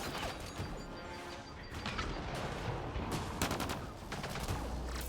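Dense, continuous gunfire in a firefight from Mass Effect Andromeda, with rapid overlapping shots, sharp cracks and crashing impacts filling the whole span without pause.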